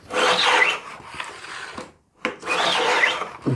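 Close, scratchy rasping strokes of a file running along guitar frets on a fretboard, two longer passes separated by a brief pause, with no talking.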